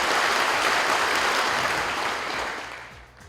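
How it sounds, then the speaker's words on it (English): Audience applause for a secondary school debate team at a grand final in Kokopo, a dense, full burst of clapping that fades toward the end. "So round of applause for Vuna Bosco Secondary team."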